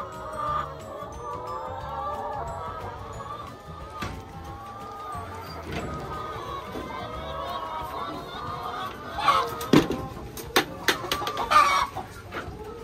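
A flock of hens clucking inside a chicken caravan housing up to 350 birds, a dense chorus of overlapping clucks and calls at close range that grows busier and louder toward the end.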